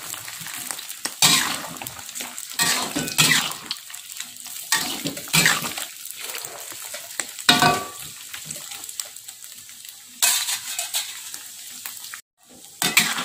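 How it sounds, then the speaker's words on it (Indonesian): Meat sizzles in hot oil close up, with repeated scraping and stirring from a utensil against the pan in irregular bursts. "Selanjutnya kita goreng ini daging sapi yang udah kita pokok tadi ya."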